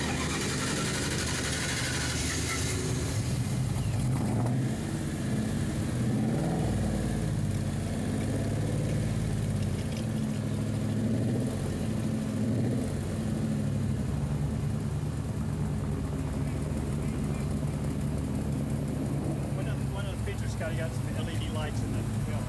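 A 1955 Ford pickup street rod sits idling, a steady low engine rumble running throughout under occasional talk nearby, with no clear gaps or revs.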